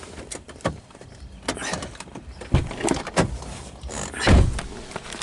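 Near, scattered thunks and clicks sound from a 2006 Chevrolet Uplander LT AWD's door as it is opened and shut, with latch knocks and a heavier closing thud toward the end.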